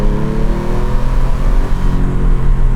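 A Porsche GT3 RS engine roars loud and close from inside the car with the windows open, a rich, steady, sustained growl with no talk over it.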